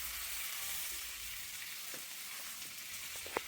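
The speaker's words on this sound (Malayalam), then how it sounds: "നന്നായിട്ട് തന്നെ ഒന്ന് വഴറ്റിയെടുക്കണം." Chopped cucumber and tomato sautéing in a pan, a steady soft sizzle with a few light stirring clicks near the end, no talking.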